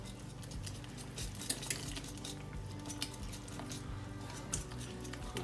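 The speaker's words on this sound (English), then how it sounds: "Let me get my whisk and let's see if we can do a little bit better with a whisk" Jiffy cornbread mix batter is whisked in a bowl, a steady, quiet run of fast metallic clinks and taps from the whisk against the bowl, with a few sharper knocks standing out and no talking.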